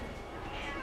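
A single short, close meow from a cat.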